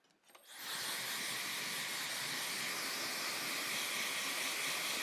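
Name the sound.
blow dryer running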